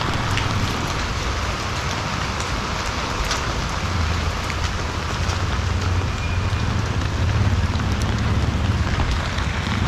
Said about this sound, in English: It's been raining for like 2 days straight.